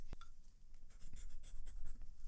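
A Derwent coloured pencil scratches across a layer of acrylic gouache, close dry scraping strokes in quick, uneven bursts.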